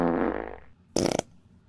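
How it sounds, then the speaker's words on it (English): A fart sound effect: two separate blasts, the first a longer, fading buzzy rasp, then a short, sharper, louder sputter after a brief pause, close and with no talk. "Fart sound effect."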